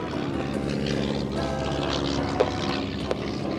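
A B-17 bomber, Sally B, taxiing at Duxford during a Flying Legends air show: a steady, droning piston-propeller rumble holds throughout, with a couple of brief sharper clicks near the end.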